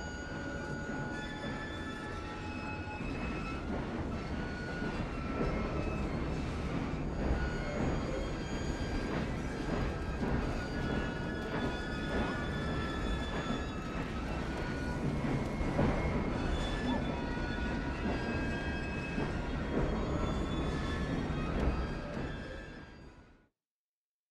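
A train rumbles steadily in the Assassin's Creed Syndicate video game, a continuous dense clatter of wheels and carriages with faint high squealing tones, holding at a moderate level before ending abruptly.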